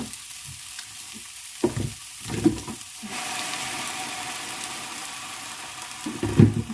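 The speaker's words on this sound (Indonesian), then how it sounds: "Ini aku bakalan tambahin air." Water poured into a hot pan of frying bean sprouts, cabbage, carrot, leek and celery for Dutch-style fried rice gives a soft steady sizzle, with a few stirring clatters and a louder hiss later, no talking.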